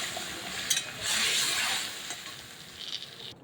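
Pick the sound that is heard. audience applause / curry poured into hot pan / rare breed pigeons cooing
curry poured into hot pan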